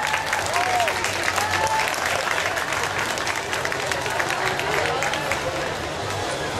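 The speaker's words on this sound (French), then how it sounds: "encore beaucoup d'applaudissements pour ce groupe" Sustained applause from a large convention audience for a winning cosplay group at a prize ceremony at Japan Expo 2008, dense clapping steady throughout with a few scattered shouts and crowd voices mixed in.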